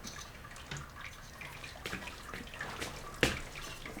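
Brewing mash draining through a grain screen during a sparge, a quiet trickle and drip of liquid with occasional small splashes and one sharper clink, close and soft, no talk.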